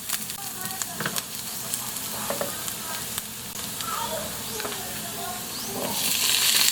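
Tomatoes, three of them, dropped into softened onions sizzling in a pan for sinigang na isda, a loud continuous frying hiss with stirring clatter, swelling louder toward the end.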